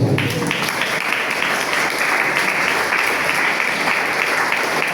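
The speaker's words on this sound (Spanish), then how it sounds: "Denle un aplauso a Cristo." A church congregation applauds during a Spanish-language service, a sustained, fairly loud wave of many hands clapping that stays steady for the whole stretch, with faint voices mixed in.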